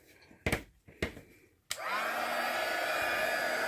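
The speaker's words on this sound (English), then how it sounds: "So now I'm going to bring in my heat tool." An embossing heat tool switches on after a few clicks and handling knocks, then blows hot air in a steady, close, loud whoosh with a faint motor whine.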